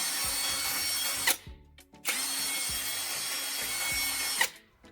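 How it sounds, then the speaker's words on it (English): A cordless power drill, freshly fitted with a restored battery, bores into wood in two long, steady whirring runs. Each run stops sharply, with brief clicks and handling noise in the gap between them, close and loud with no talking. "The drill starts right up and cuts cleanly into the wood, just like it should."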